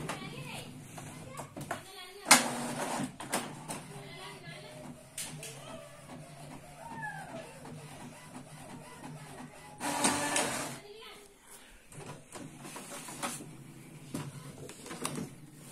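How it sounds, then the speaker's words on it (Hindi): A colour printer prints a passport-size photo with bursts of whirring and clattering feed noise, including two louder mechanical passes. Someone talks over it, and children and birds can be heard faintly in the background. "अब फोटो को प्रिंट करके मैं दिखाता हूँ"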